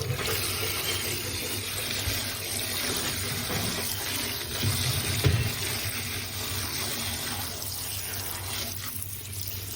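Water runs steadily from a tap into a basin, a continuous gushing splash with a brief surge partway through.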